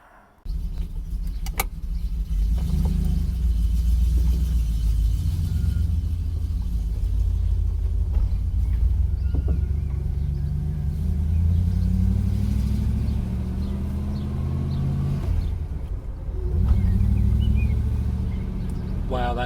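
Interior drive in a Triumph Stag with a freshly installed gearbox, a steady engine rumble rising and falling as gears change, with small clicks and rattles in the cabin.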